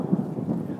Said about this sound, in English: There's the thunder to go with it.